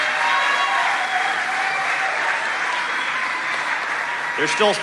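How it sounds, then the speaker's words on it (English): Steady audience applause at a Tulsa mayoral candidates' debate, a dense, even wash of many hands clapping that holds for several seconds before a voice briefly cuts in at the end. "Now give them all a round of applause."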